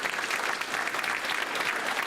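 Board of Education candidates at a school-district meet and greet receive a dense, even round of applause from the audience, sustained and fairly loud with no voices over it.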